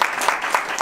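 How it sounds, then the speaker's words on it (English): An audience at a community conversation on education applauds, a short burst of dense, steady clapping from a crowded room, moderately loud and without speech. "Round of applause for Dr. Whitney Martino."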